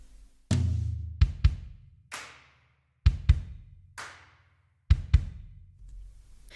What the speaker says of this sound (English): So we've just used a very simple drum beat.